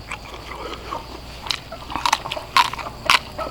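Someone bites into crispy, sweet roast suckling pig skin: a few crunchy bites and chewing sounds, close to the mic, irregular and moderately loud over a steady background hiss.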